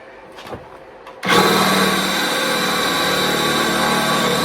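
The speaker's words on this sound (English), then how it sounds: "Get your fully charged power drill with the 1/2-inch diameter initial drill bit, and just start going." A cordless power drill with a 1/2-inch bit starts up abruptly and runs steadily at high speed, loud and close, after a brief stretch of quiet handling noise, drilling into a very thick, hard root.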